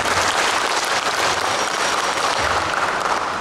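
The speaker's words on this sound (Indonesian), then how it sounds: "Tepuk tangan." Sustained audience applause at an official ceremony installing the regent and vice regent of Lampung Tengah as PMI advisory board members; dense, steady clapping fills the room throughout with no pauses.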